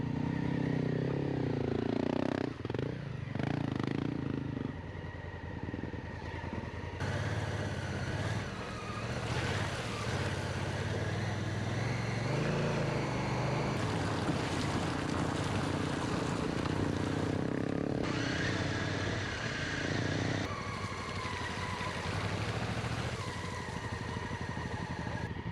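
An enduro adventure motorcycle is ridden on muddy, slippery roads. Its engine drones loud and steady throughout, shifting pitch as the throttle changes, with wind noise over it.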